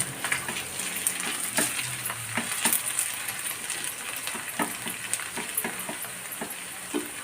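Potatoes fry in hot oil in a home kitchen pan, a steady close sizzle with scattered crackles and occasional clinks of a stirring utensil against the pan throughout.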